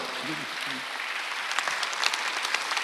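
A church congregation claps steadily in a dense, continuous wave of applause during a Sunday service, with a brief voice at the start underneath.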